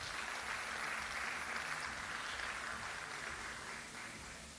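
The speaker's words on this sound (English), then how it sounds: "That deserves a round of applause." Audience at the JA Africa Company of the Year 2022 event gives a round of applause, a soft, even patter of clapping heard from a distance that fades slightly toward the end.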